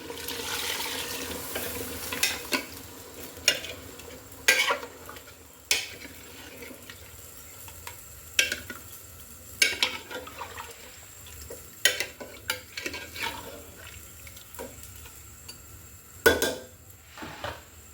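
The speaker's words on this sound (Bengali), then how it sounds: "এই পর্যায়ে আমি ঝোলের পানি অ্যাড করে দিচ্ছি।" Broth water is added to frying golden chicken in a pot. A soft hiss and sizzle comes first, then scattered spoon taps and scrapes against the pot over a low bubbling bed, close and quiet with no talk.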